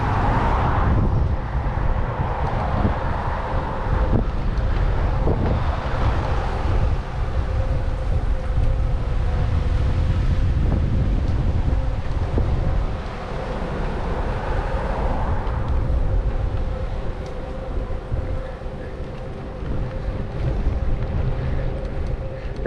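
A headwind buffets the microphone while riding an e-bike along a trail on Sanibel Island, a loud continuous low rumble of wind that swells and eases throughout.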